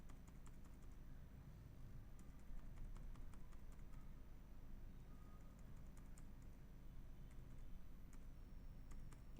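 Someone types on a computer keyboard with soft, scattered clicks over a steady low hum. The keystrokes come in irregular bursts, with no speech.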